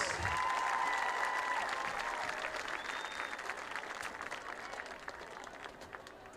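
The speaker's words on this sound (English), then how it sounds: "a big round of applause for our marching Patriots" Crowd applause for the Lewisburg High School marching band on a football field, starting loud and full, then thinning and fading over several seconds, with no talk over it.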